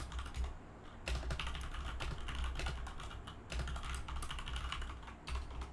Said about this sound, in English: Sorry if the keyboard sound very loud because it is making. This is the red switch.